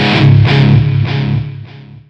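Electric guitar run through a Boss Metal Zone distortion modelled on a Mooer GE200, with a cab simulation, room reverb and digital delay; a loud, thick distorted chord burst with several re-picked accents, fading out over about two seconds.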